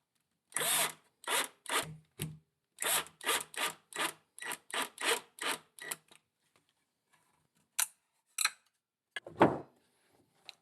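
Screws driven into the wooden part of a shop-built quad screw vise, heard as a series of short, close scraping and grinding bursts at a steady rhythm, followed by a few isolated clicks and taps.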